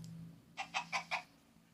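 Chicken clucking in Minecraft: four quick, faint clucks in an even rhythm over a low background hum.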